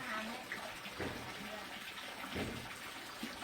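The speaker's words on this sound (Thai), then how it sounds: "ล้างขาให้ลูกด้วย" Water splashes and pours steadily as a child's legs are rinsed beside an inflatable pool, a continuous nearby wash with small surges of pouring and faint voices underneath.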